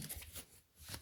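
Tarot cards being shuffled by hand, a soft riffling flutter in two or three quick close bursts with a brief lull in between.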